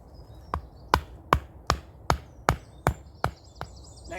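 Tent stake being hammered into the ground to pitch a tarp tent with an integral floor, nine sharp evenly spaced strikes about every 0.4 seconds, close and loud with faint birdsong in the background.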